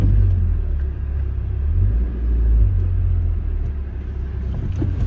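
A Hyundai Santro hatchback reversing and manoeuvring in a tight space, its engine a low steady rumble with gentle swells as it moves, close and continuous with no talk.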